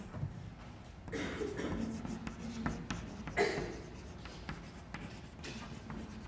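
A chemistry lecturer writes on a board, making a run of short, scratchy strokes and taps that come in uneven bursts, fairly faint and close.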